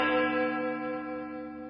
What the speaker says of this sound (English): I have like a little creepy chime for that one.